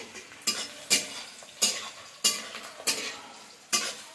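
Onions browning in a pan for Bihari-style meat curry, heard mostly as a series of sharp spatula scrapes and knocks against the pan, about six strokes at irregular intervals, over a faint background sizzle.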